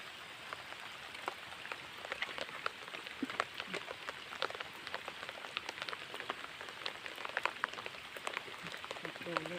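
Rain falling in a rural Thai wetland while crabs and snails are gathered, a dense patter of drops striking water and surfaces, steady and close, with faint voices in the background.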